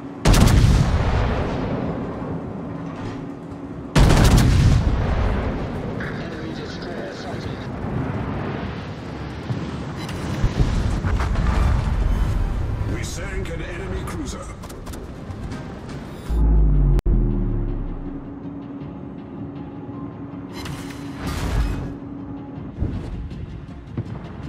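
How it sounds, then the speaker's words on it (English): Warship gunfire in the naval video game Monarch: The Royal Wrath: several heavy booming cannon blasts with long rumbling tails, spaced irregularly over a low background drone, some louder and closer than others. "Concentrate fire on that enemy warship."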